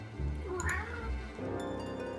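A cat meows inside a Final Fantasy XIV game scene, a fairly loud drawn-out call heard over game music and ambient background.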